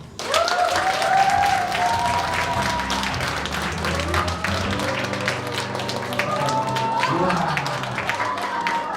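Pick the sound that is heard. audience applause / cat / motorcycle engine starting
audience applause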